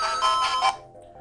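A short burst of Sonic the Hedgehog game audio plays on an ODROID-GO handheld. The bright, chiming electronic tones last under a second and then stop, leaving quiet background sound.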